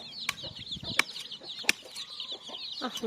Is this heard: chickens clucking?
yes